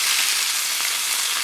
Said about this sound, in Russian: Торчит, это же картошка, она жарится, всегда торчит.